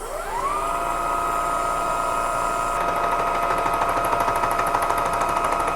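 A machine tool spools up then holds a steady loud whine with harmonic tones while a cutter takes fifty thousandths off the bottom edge of a Black Diamond drill grinder part, a rough grinding texture joining partway through.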